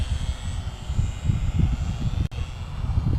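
A Harbor Freight P-51 RC model airplane flies overhead outdoors, its engine buzz droning steadily and fairly loud throughout, rising and falling slightly as it rolls and passes, with no talk.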